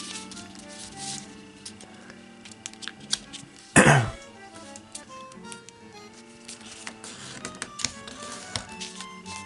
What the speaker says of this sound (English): now we're going to fold these two edges to the middle